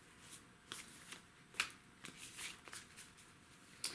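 Moonology oracle card deck being shuffled, a run of soft papery riffles and flicks coming in quick bursts, with a few sharper snaps, close and fairly quiet with no talking.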